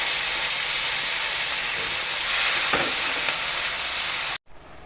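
Onion and tomato sautéing in a hot pan for burong kanin give a steady, close sizzling hiss with faint stirring scrapes, cut off abruptly near the end.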